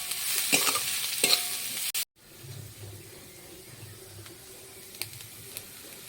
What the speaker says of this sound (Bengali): তো এখানে আছে আমার কাছে গাজর কুচানো এর সঙ্গে লঙ্কা আছে তো আমি এটা একসঙ্গে দিয়ে একটু ভেজে নেবো পেঁয়াজের সঙ্গে